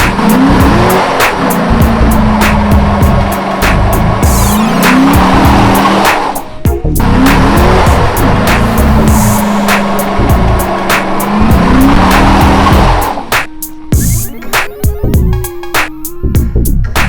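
A rebuilt Dodge Challenger Shaker, repaired after an accident, on a test drive: a loud engine roars under sustained tire squeal and skidding, repeating in long passes close by, with brief gaps and shifting revs near the end.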